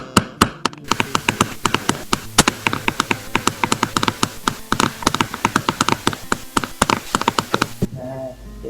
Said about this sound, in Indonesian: Kita menggunakan ketukan pakai pensil saja sudah bisa menghasilkan suara yang bagus.